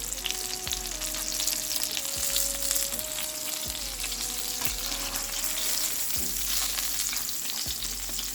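Chicken pieces frying in a pan for chicken parmesan, a loud, steady sizzle with bursts of crackling, joined by faint scraping and stirring sounds, with no talking.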